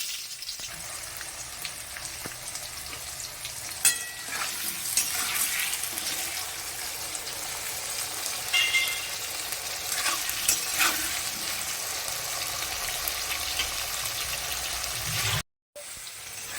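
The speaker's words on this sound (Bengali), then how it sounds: "এর মধ্যে আলু দিয়ে দেওয়া হলে আলুটাকে ভালো করে ভাজা হবে" Potatoes fry in oil in a wok while being stirred, giving a steady sizzle over repeated scraping and stirring strokes, with a brief cut near the end.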